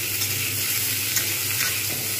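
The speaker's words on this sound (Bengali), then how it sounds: "আঁচ মিডিয়াম করে এটাকে ভালোভাবে ভাজবো" Cauliflower and potato fry steadily in a pan over medium heat, a close, continuous sizzle with light stirring scrapes and no pauses.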